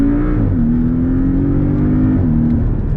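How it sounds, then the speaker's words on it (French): A Porsche Cayman 718 four-cylinder exhaust drones steadily and loudly, its pitch holding level with brief dips and rises, with no voices over it. "Vous voyez le son à l'échappement?"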